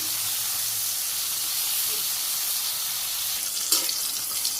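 Eggplant fries in hot oil, a steady loud hiss and sizzle running throughout with a brief crackle near the end.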